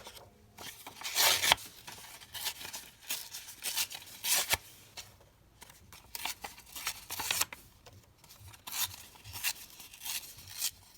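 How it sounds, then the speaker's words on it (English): Pages torn from a book for a collage scrapbook masterboard, several sharp ripping bursts of paper with quiet crinkling between them, close and distinct without talk. "I'll just tear this one down and see."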